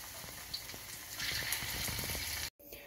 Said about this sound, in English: this is how we're gonna deep fry the paneer